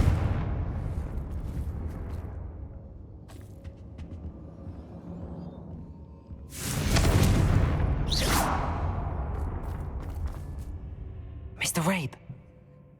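A Confringo spell blast in Hogwarts Legacy erupts with a loud booming burst, followed by a second rumbling explosion and a sharper pop near the end, over a steady game ambience.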